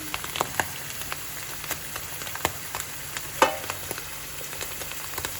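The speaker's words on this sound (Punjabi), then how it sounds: "ਪਨੀਰ ਨੂੰ ਪਾ ਕੇ ਫਰਾਈ ਕਰ ਲਵਾਂਗੇ" Paneer fries with turmeric in a pan for a bitter gourd dish, giving a soft, steady sizzle broken by scattered clicks and taps of stirring, with no voices.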